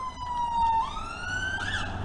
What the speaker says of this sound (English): Hopefully he's got some games for me as the siren goes past.